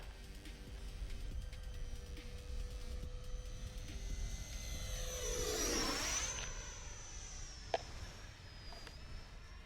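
Freewing 70mm F-22 Raptor RC jet with a steady, loud electric ducted-fan whine that surges and sweeps through a pass, with a sharp click near the end.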